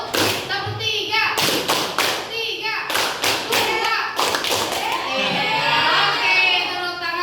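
A room of students clap a rhythmic pattern in sharp bursts of claps, each group separated by short pauses, with a teacher's voice and children's voices talking over and between the bursts.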